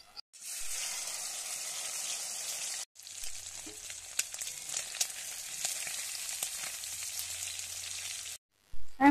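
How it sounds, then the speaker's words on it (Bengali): Prawns fry in hot oil in a wok, a steady close sizzle with crackling pops that runs for several seconds, cuts out briefly, then resumes with faint low stirring knocks before stopping. "আমি কড়াইটা বসিয়ে মাছগুলো প্রথমে ভেজে নেব।"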